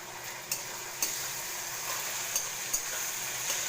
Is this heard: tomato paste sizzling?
yes